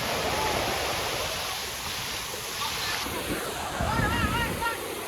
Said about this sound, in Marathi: तर पाण्याचा प्रवाह खूप खूप जोरात आहे बघा खूप वेगाने पाणी जाते खाली